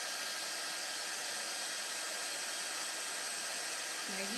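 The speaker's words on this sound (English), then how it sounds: "we will go ahead and heat emboss that" A heat embossing tool blows hot air in a steady, loud, unbroken whoosh close by, like a small hair dryer running continuously throughout.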